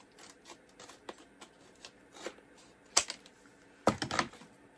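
Packaging holding fairy craft pieces is cut open with scissors, giving scattered light clicks and rustles, then a couple of sharper, louder snipping crunches near the end.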